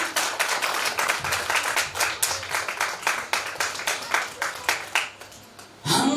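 A church congregation claps in a steady rhythmic pattern, many hands beating together at an even pace before the sound breaks off near the end.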